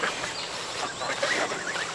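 Geese on a small farm honk and cackle in a busy, overlapping chorus at close range, fairly loud and continuous, with no one talking.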